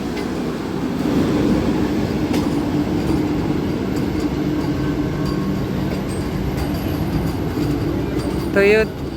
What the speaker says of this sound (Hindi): तो ये थी देवघर वंदे भारत एक्सप्रेस।